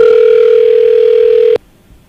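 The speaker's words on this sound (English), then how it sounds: "There's 2 rings. That's the 3rd ring." A telephone rings on an outgoing call: a single steady, loud electronic tone holds for about a second and a half, then stops abruptly, leaving near silence.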